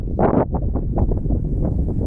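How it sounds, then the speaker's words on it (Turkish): Gusts of wind buffet the microphone with low rumbling bursts near Murmansk, Russia, as snow begins, the first strongest, then softer rushes following. "Rüzgar da çoğaldı."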